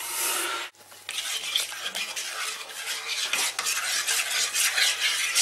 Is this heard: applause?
no